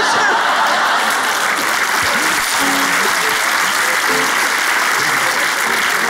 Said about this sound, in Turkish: Muhtarlar, siz niye alkışlıyorsunuz?